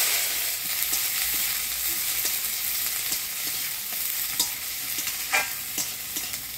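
Chopped onion fries in hot oil with dried red chilli and radhuni seeds, a continuous close crackling sizzle punctuated by repeated scraping and clinking stirring strokes.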